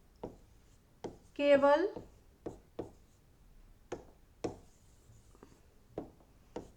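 Sharp taps and scrapes of writing on a board during a class 8 math lesson, spaced irregularly over several seconds, with a short spoken word partway through.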